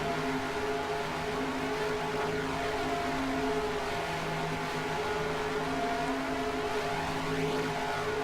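A NASCAR Grand National Series race car engine at Talladega Superspeedway in a racing video game, a steady loud drone with a swirling, phasing sweep as a lapped car is caught, continuous with no pauses.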